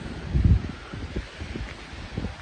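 Gusty wind buffets the microphone in low, uneven rumbles, strongest early on, then settling into a steadier whoosh with no voices.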